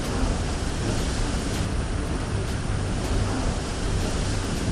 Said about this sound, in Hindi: तेज हवा की इस आवाज को सुनिए।